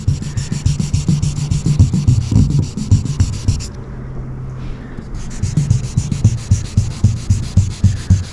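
Close, rhythmic back-and-forth strokes of a sanding block carrying 1000-grit paper, wet sanding a car's painted surface; the rubbing pauses briefly midway, then resumes at the same steady pace.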